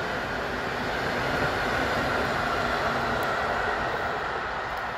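A train hauled by an EP07 electric locomotive passes close by on a Polish railway, giving a steady, loud rumbling roar of wheels and wagons with no pause.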